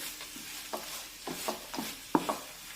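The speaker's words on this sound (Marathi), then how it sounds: "आता सर्व व्यवस्थित पुन्हा एकदा मिक्स करून घेऊया" A sticky apple ladoo mixture with fried cashews and almonds is mixed by hand, giving a few soft, faint squelching stirs and light scrapes at an irregular pace, with no speech.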